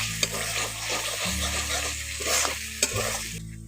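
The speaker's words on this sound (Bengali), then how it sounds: "পেঁয়াজটা দিয়ে পেঁয়াজটাকে একটু ভালো করে কষে নিচ্ছি।" Diced onions fry and are stirred in a pan, a steady close sizzle with repeated scraping strokes and a couple of sharp utensil knocks against the pan.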